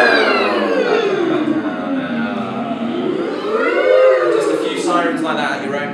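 Several voices at an acting school rehearsal warm-up glide up and down together in a slow, wavering sweep, imitating a siren, loud and close.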